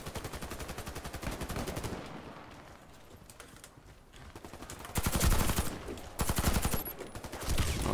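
Rapid pistol and automatic gunfire in the online shooter Warface, dense bursts of close, sharp shots that pause briefly mid-clip before resuming in loud volleys.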